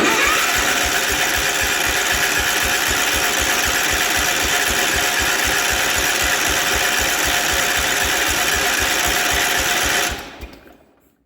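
The starter on a barn-find, one-owner 1967 Gravely 430 tractor cranks the engine without it catching, a loud, close, rapid rhythmic churning that runs steadily for about ten seconds before winding down and stopping.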